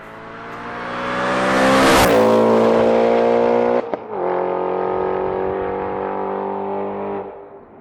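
A supercharged Audi RS4 B7 with a Milltek exhaust revs hard, its loud engine note rising to a high peak, then dropping and holding a strong, steady roar with a brief break before settling. Close and alone, with no voices.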